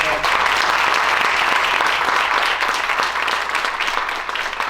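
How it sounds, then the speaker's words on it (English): Sustained audience applause fills a hall at an Italian scholarships and awards ceremony, dense steady clapping from a large crowd throughout, loud and continuous with a slight fade near the end. "A big round of applause for all of them."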